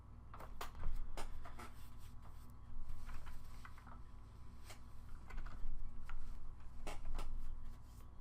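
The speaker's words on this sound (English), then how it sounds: "I'm gonna try to press keys very quietly" Soft keys are pressed quietly on a computer keyboard during a game session, scattered light clicks over a faint steady background hum, with no talk.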